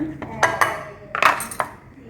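A utensil clinks and scrapes against a pan while grated carrot and pumpkin are mixed for a thoran, giving a few sharp metallic knocks in short bursts at close range.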